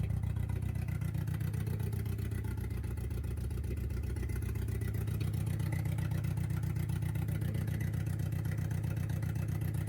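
A car engine idling steadily at around 900 to 1,000 RPM, a low even rumble with a regular pulsing rhythm that holds constant without revving.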